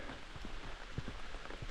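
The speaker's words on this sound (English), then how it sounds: "Just had another downpour come through" Rain falls steadily on a road along a hiking trail after a downpour, a dense soft hiss broken by occasional louder drips.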